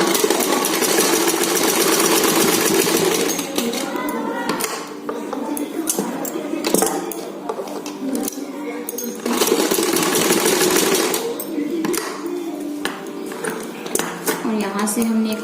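A sewing machine runs in bursts while stitching the lining of a double katori blouse, its rattling whir loud and close, stopping and starting between short pauses.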